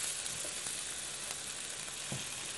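Mushrooms and melting cheese sizzle quietly in a pan, a soft continuous hiss with a couple of faint low clunks, heard alone without speech.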